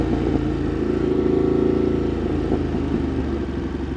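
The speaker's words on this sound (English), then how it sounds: "Y'all hear that exhaust?" A Ducati Monster 1200 engine rumbles steadily up close, a deep throaty exhaust drone that swells slightly mid-way and stays loud throughout.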